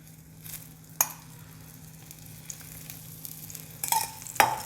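Sprouted moong dhirde fry on a pan with oil, a quiet steady sizzle under scattered clinks and taps of a utensil, with sharper metallic knocks near the end.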